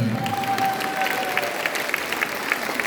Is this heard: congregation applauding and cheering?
yes